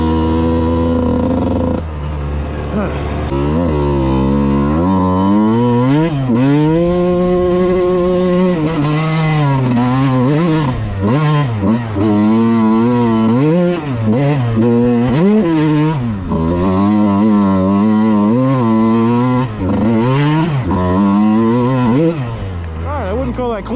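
A Suzuki RM 125 two-stroke dirt bike rides past close and loud, its engine revving up and down in repeated climbing sweeps as the rider shifts through the gears.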